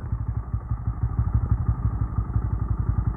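Motorcycles on a road, a steady, rhythmic, thumping engine putter that is loud and close throughout.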